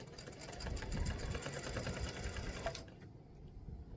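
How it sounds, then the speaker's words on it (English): A sewing machine satin stitching a tic-tac-toe board in variegated thread, a fast steady mechanical whir running close and loud for almost three seconds before stopping abruptly. "I'm going to do my satin stitching in this variegated thread"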